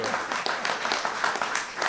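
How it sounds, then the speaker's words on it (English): An audience at a Pennsylvania governor's event claps steadily for a couple of seconds, a soft, fairly distant patter of many hands without a clear peak. "clapping for you."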